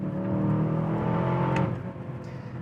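An Aston Martin DBX707 SUV's engine revs hard under acceleration, a steady, loud, smooth roar from inside the car that eases slightly near the end.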